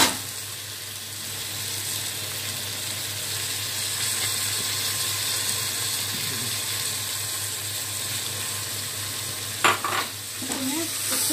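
Dal, rice and spices frying and being stirred in a pan for khichdi, a steady close sizzle with scraping stirs throughout and a few sharper clatters near the end.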